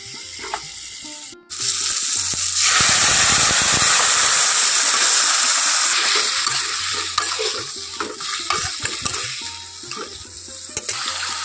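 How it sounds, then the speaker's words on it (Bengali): Boiled drumstick pieces and potatoes poured with their cooking water into a hot pan of mustard oil, tomato and five-spice, giving a loud burst of splashing sizzle that settles into steady frying and bubbling. "এই যে সজনে ডাঁটা, আলু সেদ্ধ করে রেখেছিলাম, এই জল সমেতই এখন আমি দিয়ে দেব"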